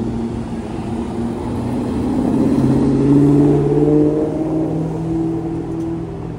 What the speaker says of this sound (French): Petite Mustang.